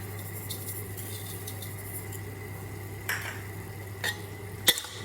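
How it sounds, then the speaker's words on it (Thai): Sweet leaves being stir-fried with oyster sauce in a pan, heard as quiet, scattered clinks and scrapes of a utensil against the pan over a steady low hum, with a few sharper knocks toward the end. "จากนั้นก็จะผัดจนเข้ากันแล้วก็สุกได้ที่นะคะ"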